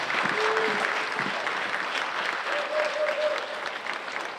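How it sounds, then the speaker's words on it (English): Sustained applause from the audience at a high school graduation ceremony for the class of 2021, honoring the JROTC cadets; dense, steady clapping fills the whole stretch with a few brief tonal sounds underneath. "Let's give a round of applause for our JROTC cadets."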